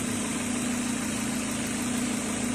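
A Mazda's auxiliary cooling fan whirs steadily over the low, even hum of the idling engine, with a strong constant drone and no break for the whole stretch.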